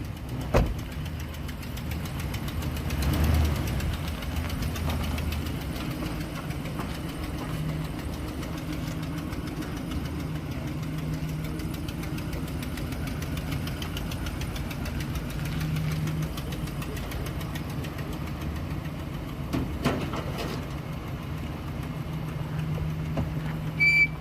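A 2009 Dodge Ram 2500 truck idles steadily with a low, rumbling engine note, shifting slightly as the truck creeps forward and back, with a few faint clunks; no talking.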